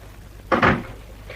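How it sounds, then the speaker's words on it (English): A wooden door is shut in a radio drama, giving one quick double thud: a short knock followed at once by a louder, slightly longer bump, with a quiet room tone around it. "Shut the door on him, Cuts."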